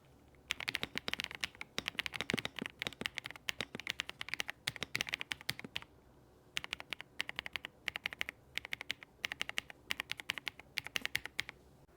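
Rapid typing on an AI keyboard in two bursts with a short pause between, crisp clacky mechanical keystrokes close to the microphone, no talking.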